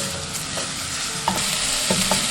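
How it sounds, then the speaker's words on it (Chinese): Scallion, ginger and garlic stir-fried in a little cooking oil in a wok, with a steady close sizzle and a few scraping stirs of the spatula, brief and without talk. "下入葱姜蒜炒香"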